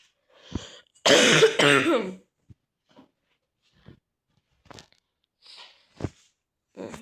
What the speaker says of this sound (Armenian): կներեք էլի որ հազում եմ